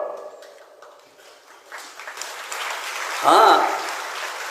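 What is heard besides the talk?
audience applause during sermon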